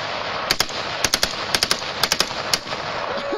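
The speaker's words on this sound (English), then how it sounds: "taking on a machine gun at age 4" Bursts of machine gun fire fired by a four-year-old at a gun party, short rapid volleys of three to four sharp shots repeating about every half second, loud and close with no talk.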